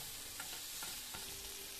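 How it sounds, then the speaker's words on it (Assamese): Chillies fry in a pan with salt and turmeric powder, a quiet, steady sizzle with a few soft stirring scrapes. "জলকীয়াখিনি দুই মিনিটমান ভালদৰে ভাজি ল'ম"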